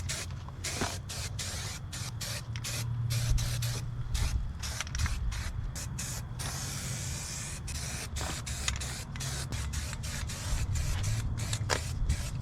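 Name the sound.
spraying undercoat on a truck frame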